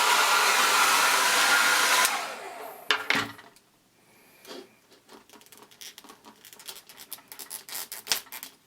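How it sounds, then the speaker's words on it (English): A blow dryer blasts loudly for about two seconds while heating toy figure parts, then cuts off, followed by faint scratching, tapping and handling noises of plastic pieces. "I'm just going to get a blow dryer and soften these up."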